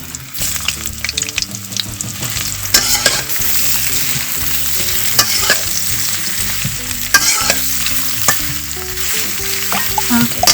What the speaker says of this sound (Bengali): একটু ভেজে নেব, বাদামি কালার করে নেব।